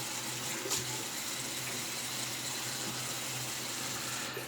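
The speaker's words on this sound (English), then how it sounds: "I'm just gonna use regular tap water." Regular tap water runs steadily from a faucet while someone prepares to wet their face for a shave, a constant soft hissing gush with no voices.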